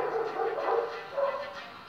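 Several dogs that live just across the street bark and yip close by, a busy run of overlapping barks filling the whole stretch at moderate loudness.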